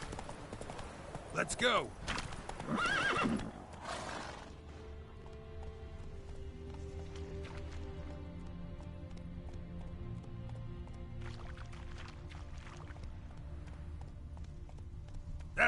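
Hooves of Roach, the horse in The Witcher 3, clip-clopping in a fast galloping rhythm with creaking tack, loud and close at first, then settling under game ambience while someone speaks briefly.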